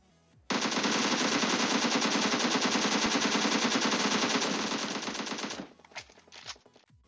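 An AKM assault rifle in PUBG Mobile fires one long, loud, continuous full-auto burst of rapid, closely spaced shots lasting about five seconds, then breaks off into a few short trailing bursts.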